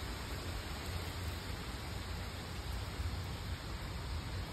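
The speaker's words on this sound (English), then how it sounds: "I'm gonna sit out here and enjoy this rain." Steady rain falling outdoors during a storm, a dense even hiss that stays loud and constant throughout with no talking.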